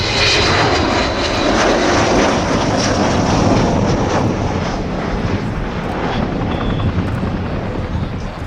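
A loud, steady jet-engine roar of the Avro Vulcan XH558 close overhead during an air display at Yeovilton, droning throughout with some wind buffeting.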